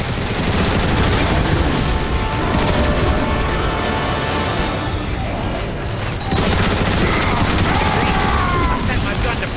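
Heavy, continuous gunfire and explosions in the video game Transformers: War for Cybertron, a loud, dense barrage that never lets up, with mechanical whirs and effects mixed in.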